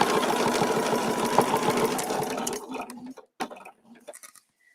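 A sewing machine stitches fabric in a fast steady whirring run for about three seconds, then stops. A few quiet clicks and knocks follow. It sounds close, with no talk.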